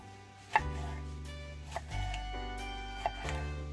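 Knife slicing vegetables into thin julienne strips on a cutting board, three sparse, sharp taps spread over a few seconds beneath steady background music.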